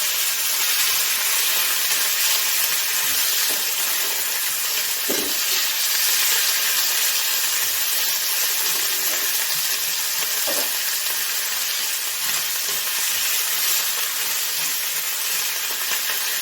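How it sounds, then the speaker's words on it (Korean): Steady, loud sizzling of tuna stir-frying in hot garlic oil, with a few soft scraping stirs breaking through the continuous hiss. "이게 마늘 오일에 볶는 거라서"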